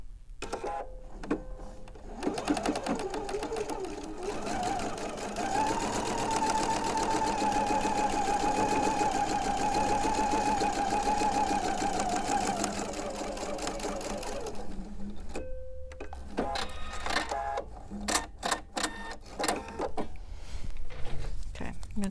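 A sewing machine stitches quilt pieces in a long, steady mechanical run lasting about ten seconds, stopping and starting near the end with short bursts; a person talks quietly between the runs.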